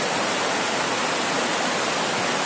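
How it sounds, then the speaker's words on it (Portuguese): Iracema waterfall in Raposos, Minas Gerais, pours in a steady, close, full-bodied roar of falling water with no voices. "Cachoeira Iracema aqui em Raposo"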